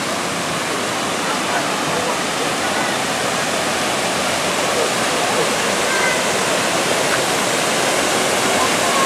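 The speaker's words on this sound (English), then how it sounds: "But here is the Copper Creek Falls." Copper Creek Falls, a waterfall at the Wilderness Lodge resort, gives a steady, loud, full-bodied rush of falling water that holds unchanged from start to finish, with no voices on top.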